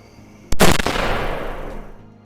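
A rifle shot fired at a wild boar during a night hog hunt: one sharp, loud crack followed by a long rolling echo that fades over about two seconds.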